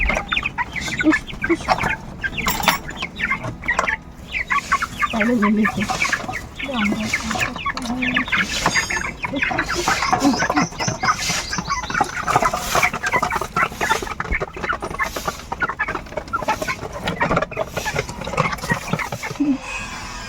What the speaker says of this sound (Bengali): আমাদের ছোট ছোট মুরগি বাচ্চা আছে, ওদের খাবার দেবো